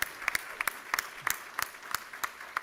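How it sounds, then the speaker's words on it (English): An audience at a student academic ceremony claps in a sparse, rhythmic round, a steady series of distinct claps with no talking. "I just want to give every student in this room a round of applause"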